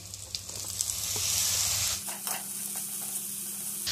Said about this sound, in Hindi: तो ये अरबी हल्की सी फ्राई होगी